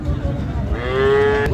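A cow at a busy rural cattle market in Dinajpur lows once in a rising, drawn-out moo, close by, over a background murmur of crowd voices.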